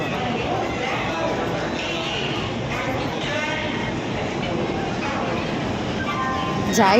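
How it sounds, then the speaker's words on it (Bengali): A train pulls into a busy Indian railway station, a dense, steady rumble of wheels and platform noise with crowd chatter throughout and a brief sharper rise at the very end. "আমাদের ট্রেনটা রাইট টাইমে ঠুকে পড়েছে"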